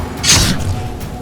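Confringo spell blast in the Hogwarts Legacy video game, a single loud close whooshing burst with a bright hiss that swells quickly and then fades into a low rumble.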